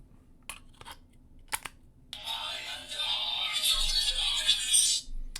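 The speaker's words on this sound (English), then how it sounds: "so we'll throw a battery in it real quick" A battery is slipped into a lightsaber hilt, with a few sharp clicks and taps followed by a longer scraping, rattling slide of metal, close and fairly quiet.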